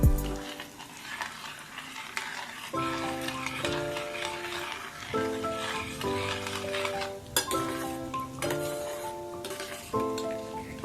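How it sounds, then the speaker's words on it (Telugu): A coriander, cumin and mustard seed tempering fries in a pan, giving a continuous sizzle with occasional utensil clinks under loud background music. "ఒక స్పూన్ ఆవాలు కూడా వేసేసి బాగా కలిపి పోపుని బాగా ఫ్రై అవ్వనివ్వండి"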